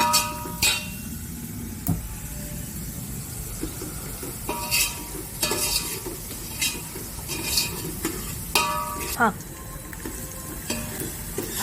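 Spring onions, onion and chili fry over high gas in a pan, giving a loud steady sizzle broken by frequent spoon stirs and scraping clatters near at hand.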